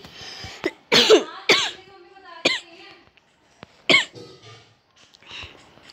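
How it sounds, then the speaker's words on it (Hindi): A person coughing in several close, harsh bursts spaced out over a few seconds, with throat-clearing sounds and quiet pauses between them. "खांसी हो रही है मुझे"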